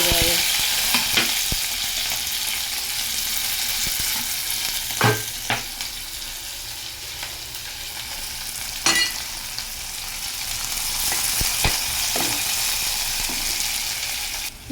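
Onions, crushed garlic and green chillies fry in a pan with a strong continuous sizzle, marked by occasional knocks and scrapes of stirring close by; no voices are present.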